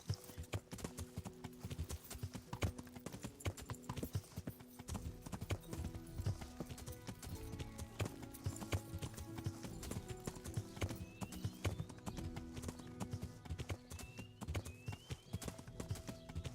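Steady clip-clop of horse hooves trots along with a rhythmic beat in the video game Kingdom Come: Deliverance, with a brief whinny and faint ambient game sounds behind.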